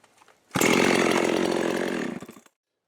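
A Jonsered 2165 HTSS chainsaw with an X-Torq carburetor and modified air filter and air box fires up and runs loud at high revs for about two seconds before cutting off, close and alone.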